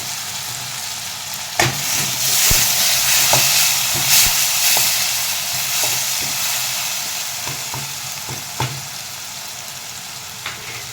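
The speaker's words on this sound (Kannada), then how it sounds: "ಈಗ ನೋಡಿ ಸ್ವಲ್ಪ ಎಣ್ಣೆ ಒಳಗೆಲ್ಲ ಫ್ರೈ ಆಗೈತಿ ವೆಜಿಟೇಬಲು" Vegetables frying in oil with curry leaves and ginger-garlic paste for masala Maggi, a loud continuous close sizzle broken by sharp clicks of a spoon stirring the pan, no voices.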